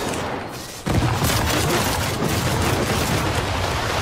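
Big guns on a futuristic battle tank firing in the video game Trailmakers: a sudden loud boom after a short quiet gap, then a sustained dense roar of continuous fire, close and heavy, with no talk.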